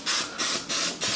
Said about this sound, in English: We're gonna take some olive oil spray.